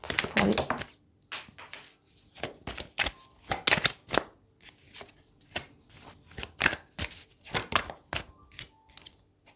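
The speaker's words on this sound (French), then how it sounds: "Je vais juste ramasser la carte que j'ai faite tomber." Tarot cards are handled and picked up in a quick flurry of crisp, papery snaps and flicks. They come close and irregular, in bursts separated by short pauses.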